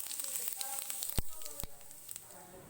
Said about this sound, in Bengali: এবার আমি ওই সর্ষের তেলের মধ্যে আর একটু সর্ষের তেল দিয়ে ওর মধ্যে এই গোটা জিরেটা দিয়ে দেবো